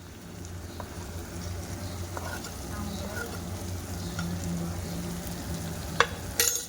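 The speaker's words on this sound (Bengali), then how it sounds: "এবার ভালোভাবে মশলাটাকে কষিয়ে নেব।" Turmeric and chilli masala sautés in oil for kosha chicken, a steady low sizzle close by with occasional light stirring and a couple of sharp clinks of the spoon on the pan near the end.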